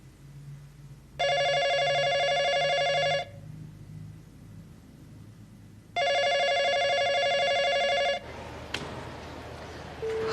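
A telephone rings twice with loud, steady electronic bursts of about two seconds each, separated by a pause and left unanswered, with a low hum underneath and a short clatter at the end.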